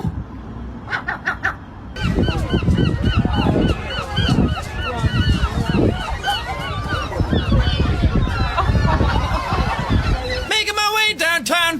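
Loud, busy seagull calls fill the scene, with repeated honking squawks and cries overlapping nearly continuously, preceded by a few sharp short calls and ending with a burst of rapid high cries; a voice speaks over them.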